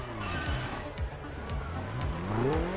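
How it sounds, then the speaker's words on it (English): A BMW sports car in the racing game The Crew Motorfest drives with a steady, loud engine drone that rises and falls through several gear changes and carries on throughout. "Quite an impressive sports car you're driving."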